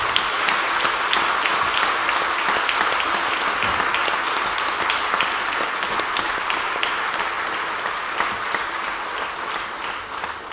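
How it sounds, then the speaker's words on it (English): A church congregation claps for the choir and its directors at a service, with dense, steady applause that runs unbroken from start to finish. No voices rise above it. "I would like to ask all of you to give a good clap to this choir and its directors."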